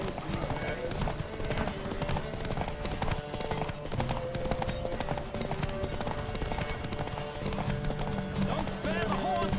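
Horses galloping in The Witcher 3 video game, a rapid clip-clop of hooves pounding steadily throughout a race, with a whinny and a voice calling out over the hoofbeats.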